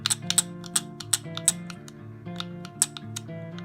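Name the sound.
Exgreem fidget cube clicky button press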